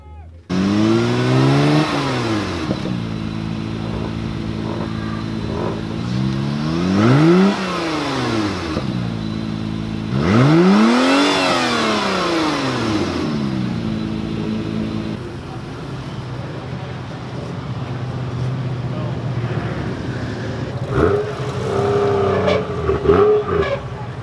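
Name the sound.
Mazda 6 car engine revving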